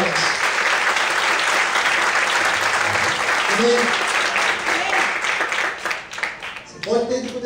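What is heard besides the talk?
congregation clapping louder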